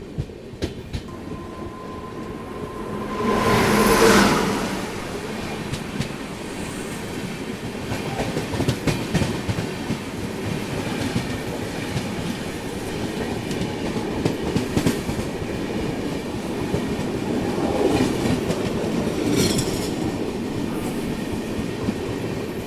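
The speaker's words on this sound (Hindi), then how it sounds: "सामने से आ रही है तिरुवनंतपुरम से चल के कोरबा को जाने वाली कोरबा सुपरफास्ट एक्सप्रेस" An oncoming Korba Superfast Express, running from Thiruvananthapuram to Korba, rushes past in the opposite direction with a steady, close rumble and clatter of rail cars, swelling into a loud whoosh early on, with no voices.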